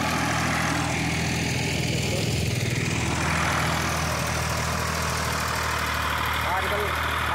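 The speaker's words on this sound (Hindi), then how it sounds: "थोड़ी मॉडिफाइड ट्रैक्टर की जुताई" A modified Massey tractor ploughs a field for trench sugarcane planting, its engine running as a continuous loud chugging drone throughout, with people talking over it.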